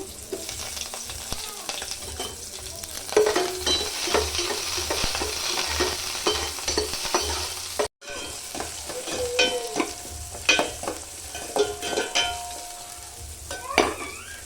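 Potatoes, onions and green chillies sizzle in a hot pan with a steady crackle, broken up by repeated scraping and stirring strokes of a spatula, close and fairly loud, with one brief dropout midway.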